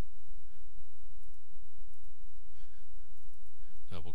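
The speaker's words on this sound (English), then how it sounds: "double click" A computer mouse double-clicks while someone enters a standard deviation formula in a spreadsheet, a quick pair of sharp clicks near the end over a steady low hum.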